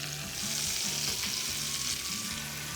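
Salmon fillet sizzling and being basted in a frying pan with oregano and white wine, a steady close frying hiss with soft spoon-scraping stirs and a small clink at the end, no talking.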